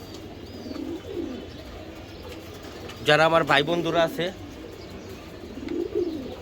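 Young racer pigeons coo in low, swelling calls near the start and end, while someone speaks loudly in the middle.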